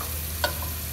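Finely chopped onion and garlic fry lightly in oil with a low, steady hiss, and one brief utensil scrape sounds partway through.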